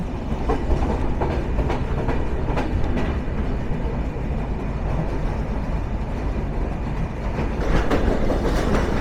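Silk City Express pulling away from Tejgaon railway station in Dhaka, a steady close rumble of wheels and carriages with rhythmic clickety-clack beats over the rails, loud and continuous with no voices.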